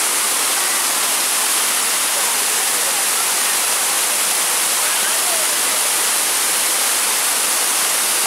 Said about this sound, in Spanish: hemos llegado al primer punto en donde podemos observar una hermosa cascada